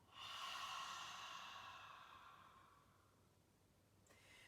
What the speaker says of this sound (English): Exhaling out through the mouth.